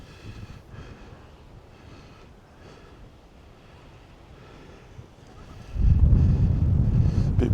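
Breezy evening wind buffets the microphone on a pebbly coastal walk at Chouet Bay, Guernsey, a low steady rumble that swells into a louder, closer gust near the end, with no talking.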